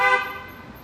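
A car horn toots in Mexico City street traffic, a short bright honk up front that fades over under a second.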